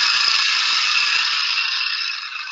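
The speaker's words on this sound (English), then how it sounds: "One is the giant CAFS machine that I made." A homemade giant CAFS compressed air foam machine sprays foam in a steady, loud, rattling hiss that holds evenly and eases slightly toward the end, with no voices.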